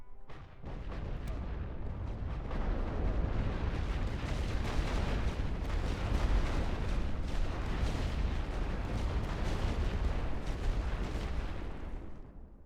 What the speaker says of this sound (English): Préparez-vous, préparez un barrage total. Tirez avec toute l'artillerie.